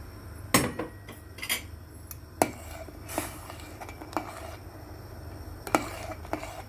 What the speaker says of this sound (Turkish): nişastamı bir bardağı suyla açıp kabakların üzerine döküp karıştırarak pişirmeye başladım